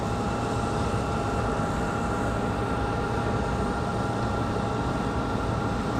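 A JetBlue jet departing Raleigh Durham International airport, a steady broad roaring engine rush that holds constant throughout, distant but continuous, with no talking.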